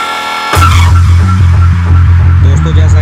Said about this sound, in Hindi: चलो गाड़ी एक्सीलेटर दबाओ अभी।